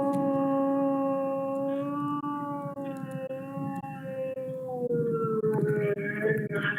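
A recorded dog howl played back over a courtroom speaker during a murder trial: one long, wavering, tonal wail that bends slowly in pitch and holds steady for several seconds with no talking over it.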